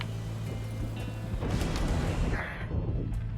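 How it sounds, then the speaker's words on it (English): Lightning cannons firing in the Pyre video game give heavy booming, crackling blasts over a continuous low hum. The blasts come in quick succession and are loud and close, with no voices. "Zerder saying that the lightning cannons sound like PPCs."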